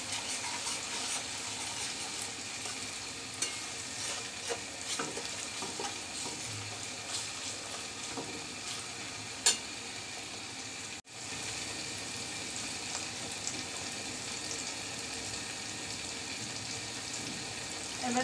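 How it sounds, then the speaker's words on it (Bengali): Chopped tomato fries in oil in a pan for a pomfret fish curry, giving a steady, close sizzling hiss with faint stirring scrapes and no talk. "একটা টমেটোকে আমি কুচি কুচি করে দিলাম। এটা তেলের সাথে ভেজে নিচ্ছি।"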